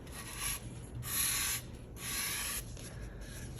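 Three bursts of dry rubbing on a ceramic bowl, smoothing its foot ring while the piece is turned over to clear defects, each stroke about half a second long with quiet pauses between, close and fairly soft.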